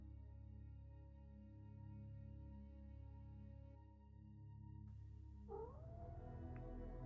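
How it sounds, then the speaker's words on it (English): An orange house cat meows indoors near the end, one short drawn-out call over a steady low hum. "There's a cat in here now."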